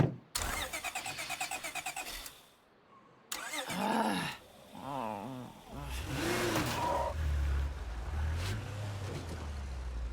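A vehicle in State of Decay 2 with failing brakes, its engine starting and revving with rising and falling tones, broken by a short gap, then rumbling steadily alongside other game noises.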